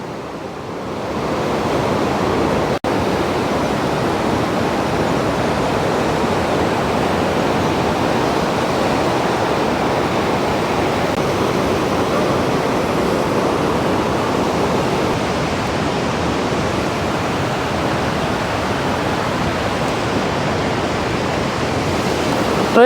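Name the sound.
waterfall water pouring out of a cave, Aharbal, Kashmir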